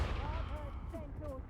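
Confringo spell cast in the video game Hogwarts Legacy, a quiet burst of blasting impacts among swirling magical effects, lasting only a moment.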